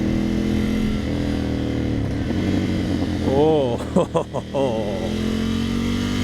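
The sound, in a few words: 2020 Ducati Scrambler 1100 motorcycle engine revving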